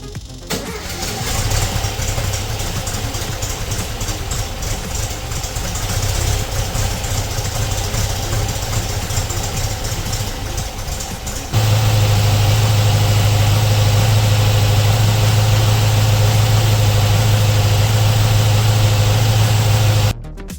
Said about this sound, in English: we'll try and start the van and see if it makes any difference